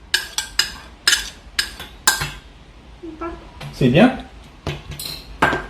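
A spoon clinks and scrapes against a bowl while mashing bananas for a banana cake, in a series of sharp, close knocks with a brief squishy stir in the middle. A voice speaks briefly.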